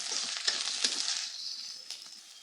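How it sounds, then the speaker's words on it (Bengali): Chopped onions fry in a pan for a chicken and potato curry, making a soft, hissing sizzle nearby with a few light stirring clicks that slowly fade. "দিয়ে দিলাম পেঁয়াজ কুচি। এগুলো এখন 2-3 মিনিট ভেজে নেব।"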